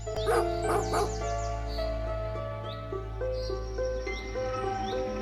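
A blue-coloured village dog in a cartoon story lets out a quick burst of several barks and yips near the start. Softer whimpering follows, set over tonal background music.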